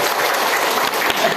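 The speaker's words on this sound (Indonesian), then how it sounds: "tepuk tangan dulu" An audience at a parenting session on bullying prevention claps together in a dense, continuous burst of applause, close and fairly loud, with no voices over it.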